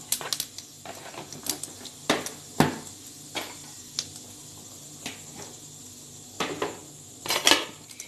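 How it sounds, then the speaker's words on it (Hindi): Whole cumin seeds tipped into about a teaspoon of hot oil in a pan for bharwa parwal masala, heard as quiet, scattered clinks and taps of a spoon against the pan, with soft sizzle between them. "थोड़ी सी साबुत जीरा डाल रहे हैं"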